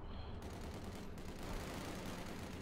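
Distant artillery fire and impacts rumble through a 4v4 Company of Heroes 2 battle on Hill 331, a dense, faint, continuous barrage of muffled booms and crackling bursts without talk.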